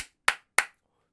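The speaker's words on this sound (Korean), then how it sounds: "박수 세번 시작" Three sharp hand claps in quick, even succession, close and loud, with silence after the last one.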